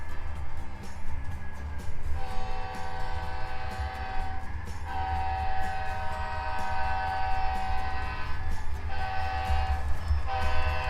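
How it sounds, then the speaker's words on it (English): Horn of an HO scale model train on a home layout, sounding in long sustained tones with brief gaps, alone over a steady rumbling running-train background. "I will make you hear the horn as requested earlier by Lars."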